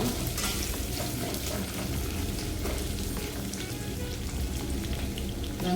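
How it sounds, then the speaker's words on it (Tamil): Large onions sauté in a pan for drumstick-leaf sambar, giving a dense, even crackling sizzle like light rain on a surface, close and constant with no talking. "எடுத்துட்டு பெரிய வெங்காயம் நல்லா வெங்காயம் நல்லா வதங்கணும்"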